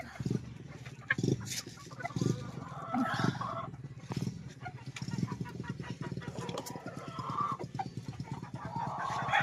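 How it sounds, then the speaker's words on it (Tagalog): Several hens cluck and murmur close by, with scattered calls and rustling throughout. "Yan ang ating mga inahin."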